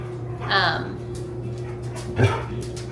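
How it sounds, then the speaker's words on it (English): Dogs on a homestead letting out two separate sharp barks about two seconds apart, close by, over a steady low background hum. "these dogs, I don't know why everyone is acting so crazy today"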